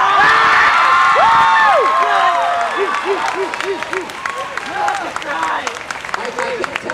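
An anime convention audience at AnimeNEXT 2009 cheers and shouts loudly, with rhythmic chanting and applause filling a hall, then tapering to scattered claps and calls.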